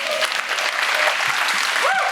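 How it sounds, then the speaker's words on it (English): An audience at a soft power talk breaks into sustained, dense applause, a steady wash of clapping that carries on evenly for the whole moment. "a big round of applause, please"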